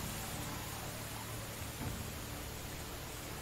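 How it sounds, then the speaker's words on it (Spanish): Steady rain pours in the medieval survival game Medieval Dynasty, a dense, even hiss filling the scene without pause, close and continuous. "cada vez llueve más fuerte"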